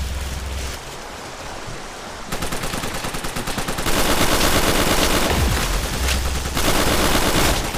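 An auto turret in Call of Duty Nazi Zombies fires a long, dense, loud stream of rapid automatic shots, with the barrage building in intensity and holding steady through several bursts.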